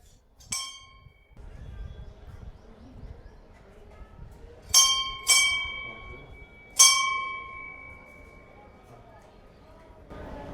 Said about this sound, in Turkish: Çanı çalıp muhtemelen dua ediyorlar.